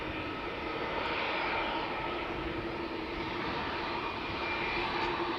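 A Vueling airliner takes off from Amsterdam Schiphol with a steady, loud broadband engine roar that stays constant and close throughout, with no voices over it.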